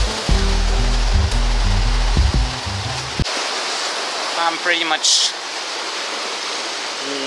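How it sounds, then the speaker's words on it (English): River Demyanitsa rushing through the Pirin mountains near the Demyanitsa hut, a loud, steady broadband water roar throughout, with a person speaking briefly over it and a low rumble in the first few seconds. "So this is the river Demyanitsa again."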